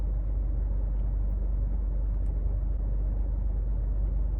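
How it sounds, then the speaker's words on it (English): A car rushes by very close on a street, its engine and tire rumble loud and steady throughout, with no talking. "that car is so close to me, oh my god."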